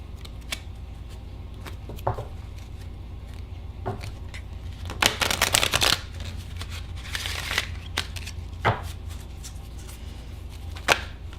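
Angel oracle cards are handled and shuffled close by: soft scattered flicks and taps, then two dense riffling bursts partway through, with occasional sharper clicks between quieter rustling.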